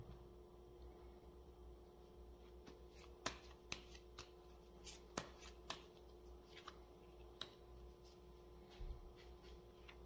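Tarot cards being shuffled and handled during a reading, soft papery riffles and sharp flicks at irregular intervals over a quiet steady background hiss, close and fairly faint, with no voices.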